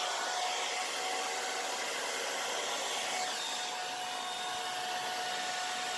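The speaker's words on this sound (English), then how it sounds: "just hold the blow dryer on it and dry it up" A hair dryer drying alcohol ink blows with a steady, continuous whoosh of air throughout, fairly loud and unbroken, with a faint high whine running through it.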